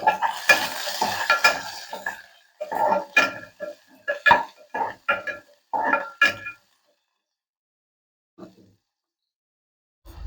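Onions frying in hot oil with mustard seeds for a village-style pitiki pappu sambar, stirred in bursts of sizzling and scraping, close and fairly loud, then a pause with only faint clinks.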